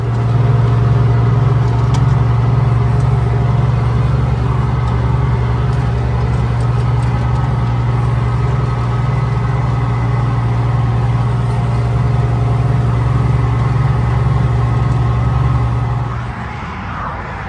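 A loud, steady engine rumble beside a highway, droning without a break before easing off at the end.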